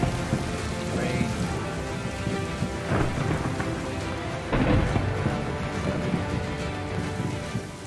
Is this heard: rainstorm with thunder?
yes